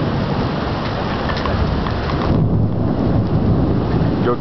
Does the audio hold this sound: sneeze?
no